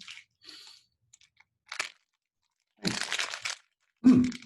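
Crisp crunching bursts of someone chewing a crunchy peanut snack, a few separate bites with short pauses between, close and quiet.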